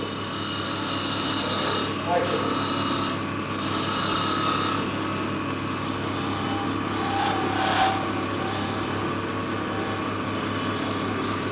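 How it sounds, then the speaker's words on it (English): Edge of a metal file used as a scraper, rasping around the corner of a workpiece in steady, quiet strokes under a continuous background hum. "Now I'm using the edge of that file there as a scraper coming around the corner."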